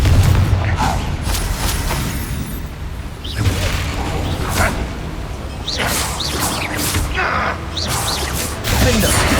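The Confringo blasting spell explodes in the Hogwarts Legacy video game, a loud booming crash with whooshing bursts and mechanical clanks in a dense, continuous battle din, repeated impacts layered throughout.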